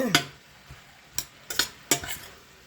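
Cabbage and smoked sausage frying in a pan, with a soft sizzle beneath a few sharp scrapes and clanks of a utensil stirring against the pan, spaced irregularly.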